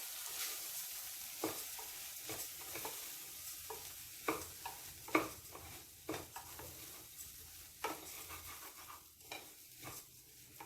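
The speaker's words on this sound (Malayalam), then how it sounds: "നല്ലതുപോലെ ഒന്ന് ഇളക്കി കൊടുക്കണം." Washed rice is stirred with masala in a frying pan for coconut milk pulao, with a quiet sizzle under repeated scraping strokes of the spoon.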